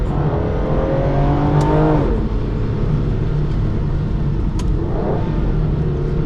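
An Aston Martin DB9 powers out of the tight Druids corner on a race track, its engine revving up in a loud rising roar, easing off briefly, then climbing again close by, with no talk over it.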